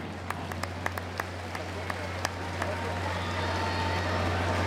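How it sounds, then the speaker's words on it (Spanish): A crowd at a jaripeo bull-riding arena bursts into applause, starting as scattered sharp claps over a steady low hum and swelling into a dense, sustained clapping roar. "¡Su aplauso!"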